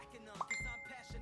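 A phone notification ding, a brief bright tone with a faint lingering ring over a quiet indoor background with a few low thumps.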